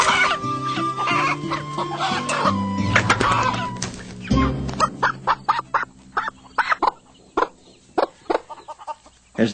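Hens clucking nearby, first a jumble of drawn-out calls and overlapping clucks, then a run of short, sharp clucks in an uneven rhythm.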